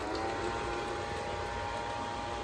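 A Hikins HKS-803 robot vacuum running at its highest suction setting gives a steady, close, whirring motor drone with an even airy hiss, unchanging throughout and with no speech.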